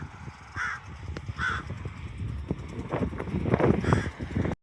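A murder of crows cawing at a cemetery in New Mexico: several harsh caws at moderate distance, repeating irregularly through the clip over a busy outdoor background of low rustling and thumps.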